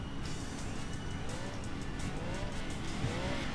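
Racing car engine and tires in Gran Turismo 2 during an Italian nationals race, engine revving steadily through its power band with rising and falling pitch sweeps and some tire noise, loud and continuous with no talk.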